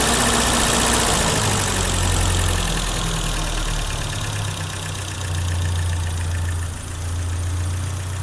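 A 1984 BMW E30 318i engine idles close by with a loud, steady rumble. The revs sag and waver midway, then partly recover. No one speaks.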